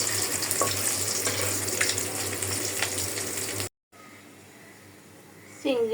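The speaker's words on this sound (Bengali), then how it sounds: "মাছও ভাজা হয়ে যাইতেছে" Hilsa fish fries in a pan with a loud, continuous close sizzle for several seconds, then an abrupt cut to a quieter scene with running water.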